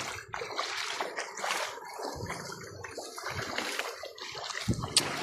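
Water runs across a flooded village road in Karadikkunru, a steady broadband rush with splashing close by and no voices.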